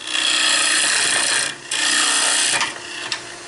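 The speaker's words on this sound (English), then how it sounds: "I was making a little noise down there on the bottom because I'm cutting right into end grain that way." A woodturning tool cuts into end grain on a lathe, giving a steady, close rasping scrape with two brief dips where the cut lightens before resuming rougher.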